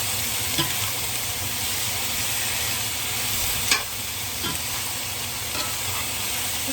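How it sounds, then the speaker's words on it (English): Browned apples seasoned with salt and pepper are stirred in a hot pan, giving a loud, steady sizzle with a few faint scrapes and knocks from the utensil. "Just trying to mix that salt and that pepper up."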